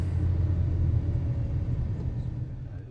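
A 2013 Fiat Doblo XL 1.6 diesel with a particle filter fault code idles nearby, giving a steady, close, low rumbling drone that eases slightly over a few seconds, with no talking over it.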